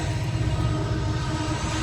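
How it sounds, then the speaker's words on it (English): A loud, steady rumble and rattle of two trains passing each other nearby, dense and continuous with no voices. "I think 2 trains are going past each other."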